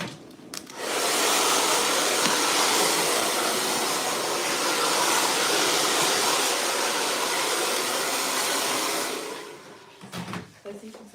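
A hair dryer blows steadily for about nine seconds in a salon while hair is being dried, a loud continuous whoosh that cuts off near the end, leaving brief faint movement sounds.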